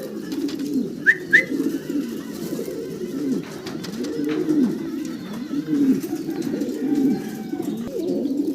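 Fancy pigeons coo steadily in a farm loft, low throaty rolling calls overlapping close by, with a couple of brief higher chirps early on.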